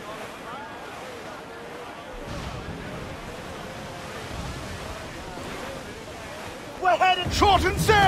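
Stormy sea in Assassin's Creed Freedom Cry, with steady rushing wind and surging waves at sea, louder crashes near the end, and voices shouting over the noise.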